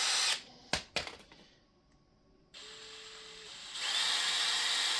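A DeWalt cordless drill whirs in short bursts, then runs steadily with a high-pitched motor whine, close and fairly quiet.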